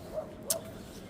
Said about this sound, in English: Dogs everywhere barking.